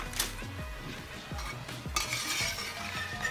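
Banana chips fry in hot oil, with a steady sizzle and the clink of a metal utensil stirring in the pan, close and moderately loud, with no voices.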